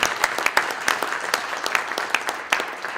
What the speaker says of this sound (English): A round of applause for the panel.